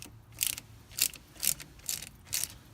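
A ratchet spins out the front brake caliper bracket bolts on a Buick Regal GS during a wheel bearing job, heard as five short, crisp bursts of clicking spaced evenly about half a second apart, close and fairly quiet.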